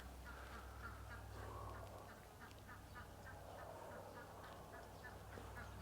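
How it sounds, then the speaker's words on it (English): A loose chicken near horses clucks and squawks in repeated short bursts at moderate distance over a low steady background hum. "Oh, there's a chicken. There's a chicken. We got a chicken sighting."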